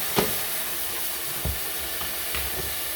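Stock ladled into a hot seafood risotto pan sets off a steady, broad steam hiss that carries throughout, with a few soft clinks and taps from stirring or the ladle.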